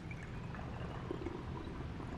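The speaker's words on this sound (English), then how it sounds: "pour that right in" Homemade coffee liqueur, thick and syrupy, pours steadily into a small 4-ounce gift bottle, a soft continuous trickle with faint gurgling, close and quiet, with no talking.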